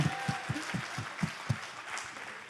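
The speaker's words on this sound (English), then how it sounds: "Can we get a round of applause for them as well as for our tech team?" A small reception crowd claps for performers and a tech team, a soft, distant patter with a few sharper individual claps standing out, a rhythmic handclap briefly pulsing beneath.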